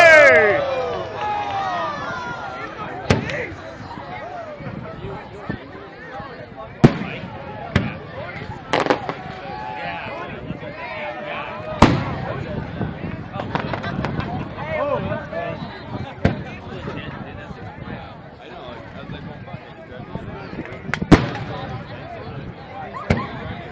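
Fireworks at a 2010 Negaunee display burst in scattered booms and crackles across the sky, some loud and close, others distant, while a small group chats and cheers nearby.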